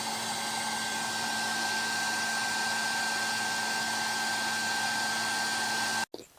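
A WeCreat Vision Pro 45W laser cuts 5mm plywood with a steady, loud blowing hum and constant whine, ending abruptly in a short thump.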